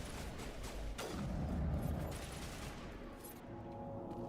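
Mass Effect gunfire rattles in rapid bursts, a sharp shot followed by a rumbling boom and a fading whoosh, loud and close with game ambience underneath.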